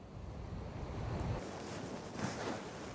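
Sea waves wash onto the beach at Sunny Beach, Bulgaria, on a cold late-November day. The surf is a soft, distant hiss mixed with light wind, and there is no talk.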